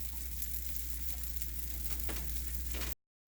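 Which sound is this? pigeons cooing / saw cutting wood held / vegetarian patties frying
vegetarian patties frying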